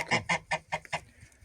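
A quick series of five honking, clucking calls from a gander and four geese close by, evenly spaced, followed by a quieter trailing call.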